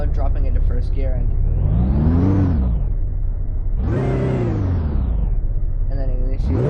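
A supercharged car engine in the Roblox game Greenville, driven in manual mode in first gear, revs hard twice in close succession, each rev a loud, rising whine that peaks and falls back, with a third climb starting at the end.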